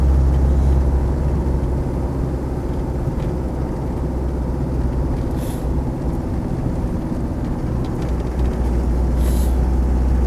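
A Land Rover 90 with a 2.5 diesel engine drives along a road, its steady loud drone and road roar filling the cab without a break and without voices.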